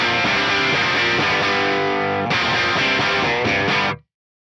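Electric guitar played through an Axe-Fx III AC20 Class A style amp model, giving a driven edge-of-breakup tone: loud strummed chords ringing for about four seconds, then cutting off abruptly into silence.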